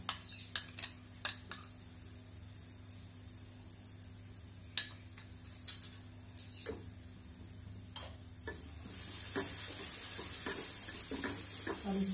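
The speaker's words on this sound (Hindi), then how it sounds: "सरसों का पेस्ट डाल देते हैं।" Mustard paste fries in a pan with potatoes and drumsticks: sharp utensil clicks and taps come first, then a soft sizzle rises and holds over the last few seconds.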